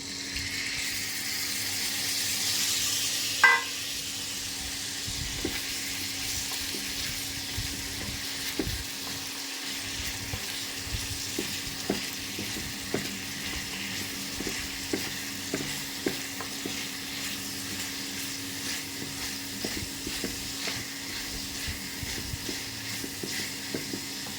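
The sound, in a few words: onion, garlic and ginger frying in oil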